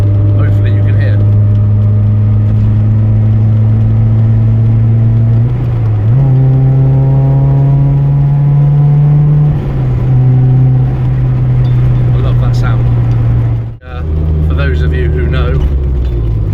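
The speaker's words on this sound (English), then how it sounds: "the sound it makes when you do give them a bit of a race and you open up the 4AG motor" Toyota AE86 with its 4AG engine revving hard and close, the pitch climbing in stepped pulls, dropping and rising again, then cutting off sharply before resuming in a loud, sustained roar.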